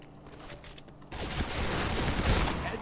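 Gunfire in the first-person shooter Point Blank: a burst of rapid, crackling shots that begins abruptly after a quieter second and continues densely to the end, loud and close.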